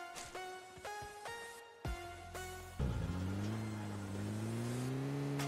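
A car engine in PUBG Mobile revs up in rising, stepped bursts as gears change, then settles into a louder sustained drone with a climbing pitch, close and clear with no talk.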